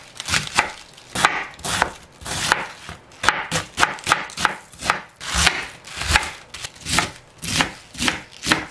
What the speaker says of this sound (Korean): 묵직하게 채를 썰어 주면 됩니다.